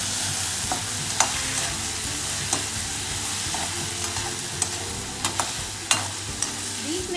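Onions, peas and ginger frying in a pan, a continuous sizzle broken by periodic stirring knocks and scrapes of a spoon, heard alone without talk.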